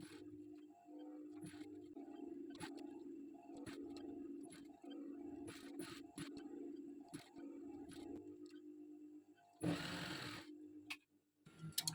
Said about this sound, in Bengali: আমি এখন এই সাইড সেলাই করে নেবো